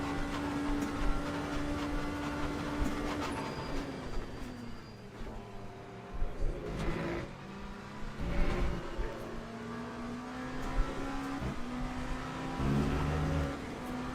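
Race cars in the Le Mans Ultimate sim lapping together in a pack, steady engine drone with rising and falling pitch as cars rev and pass, continuous and moderately loud with no talk.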